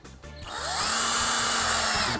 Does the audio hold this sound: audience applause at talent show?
no